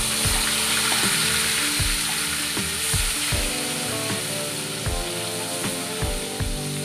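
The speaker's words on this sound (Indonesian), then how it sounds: "Nah, ini aku lagi goreng ikan asinnya." Salted fish sizzles steadily in a home kitchen pan, with a constant hiss and a series of regular low knocks and clatters from the cookware underneath.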